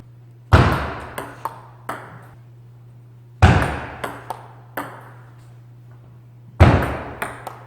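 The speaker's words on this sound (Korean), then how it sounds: "커터 서비스 시범 한번 보여보겠습니다" A table tennis ball is struck repeatedly during a cut serve demonstration: three loud, sharp paddle hits, each followed by a few lighter, ringing bounces on the table, heard close and alone under a steady low hum.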